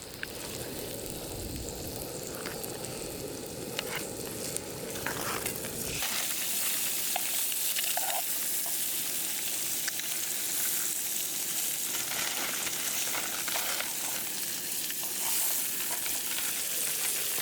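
Blackened fish for tacos fries in a pan with a loud, continuous hiss and crackle that swells and brightens partway through, then holds steady and close; no talking.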